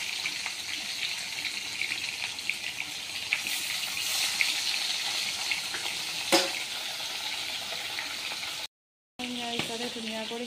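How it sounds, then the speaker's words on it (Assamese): Pieces of fish frying in a pan, a steady crackling sizzle with scattered pops and stirring clatter, close and moderately quiet, with a short silent gap near the end. "সেইকাৰণে 4 পিচকৈ দি মাছটো ভাজিম।"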